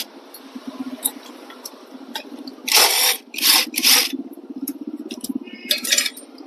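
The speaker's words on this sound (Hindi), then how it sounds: "14 नंबर वाले फुटर्स खोलेंगे।" A power tool loosens the size-14 nuts on a Splendor Plus BS6 Xtech motorcycle during a clutch plate change, heard as several short, loud whirring bursts over a low background hum, with small metallic clicks between them.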